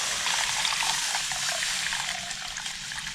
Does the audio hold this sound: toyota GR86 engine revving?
no